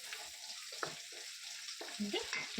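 Onion frying in a pan for sambar, a soft, steady sizzle broken by a few faint stirring scrapes and clinks, low in level and close by.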